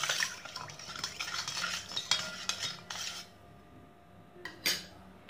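A spoon stirs sugar into lemon water in a glass for nimbu pani, with quick, close clinking and swirling, a brief pause, then a final sharp clink.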